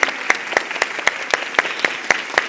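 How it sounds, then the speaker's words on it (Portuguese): Audience applause at a corporate women's executive event, a sparse, rhythmic run of individual hand claps, fairly near and steady, with no voices over it. "uma calorosa salva de palmas"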